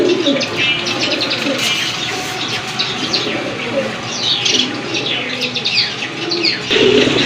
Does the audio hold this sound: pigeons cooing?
yes